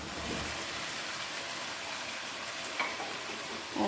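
Kebabs in masala sizzle and fry in a pan, a steady close hiss with faint stirring scrapes and a small clatter near the end, no voices.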